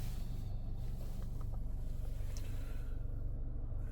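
A 2023 Infiniti QX50 Sport's 2-liter turbo engine while driving, a low steady rumble with road noise heard from inside the cabin, faint and unchanging.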